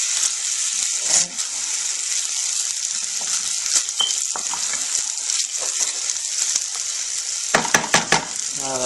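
Beef rendang mixture sizzling and frying in a pan while being stirred, a steady hiss with scattered scraping and clinking of the utensil, brief louder spatters near the end, no talking.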